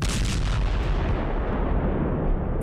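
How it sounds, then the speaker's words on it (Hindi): An explosion in an attack on a Russian warship at Sevastopol, Crimea, a dense booming roar that rolls on continuously and fades slowly, heavy and close. "एक धमाका और बड़ी तबाही।"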